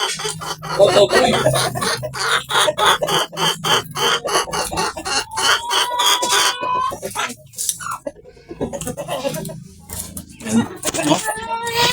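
Hens cluck and squawk close by in a steady, busy chorus, with someone talking over them throughout.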